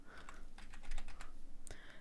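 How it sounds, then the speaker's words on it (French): Computer keyboard keys click in a quick, irregular flurry of soft, close taps, faint and quiet with no voices. "je clique sur la mauvaise touche."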